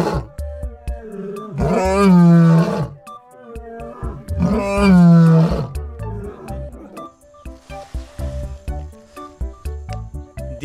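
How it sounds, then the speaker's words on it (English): A lion roar from an animal toy sounds twice, with a long rising and falling roar about every three seconds, loud and close, followed by a jingly musical backing. "This is lion."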